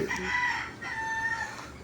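A rooster crows loudly and close by, a long drawn-out call that rises and holds, with a brief cluck at the start.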